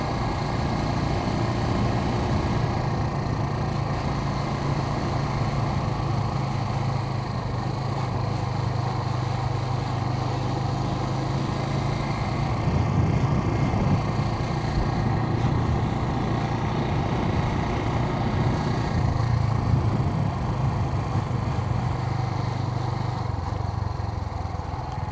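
A Suzuki TU250x single-cylinder motorcycle engine drones steadily while riding on the road, a continuous loud hum with slight rises and falls in pitch over a constant rumble of wind and road noise.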